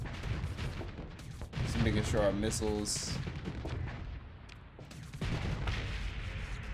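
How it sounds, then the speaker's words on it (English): Antimatter blaster rounds firing in a space strategy game, in a fight alongside an ion cannon and missiles: a rapid burst of sharp, ringing zaps and booms in the middle, over a low rumble, with someone briefly talking. "And then follow up with antimatter blaster rounds."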